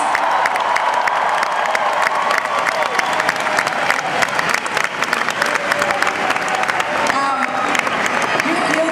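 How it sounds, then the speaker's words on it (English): A large crowd at a 2008 presidential campaign rally in Los Angeles applauds and cheers, sustained loud clapping mixed with shouts and whoops, with voices faintly underneath. "Let's give another round of applause to these tremendous Californians."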